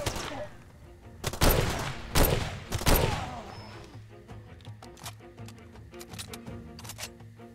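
Gunfire in the Far Cry 2 video game comes as a few sharp, loud shots early on, then gives way to quieter clicks and scattered thuds.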